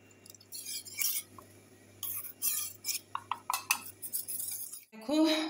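A spoon stirs cornflour into water in a bowl, making quick repeated clinks and scrapes in bursts with short pauses, close and clear, ending in a louder clatter.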